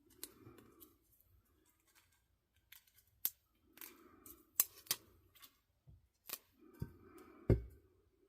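Scissors snipping through a DTF can wrap transfer sheet, a series of sharp close cuts spaced irregularly with quiet rustling between them, no talking.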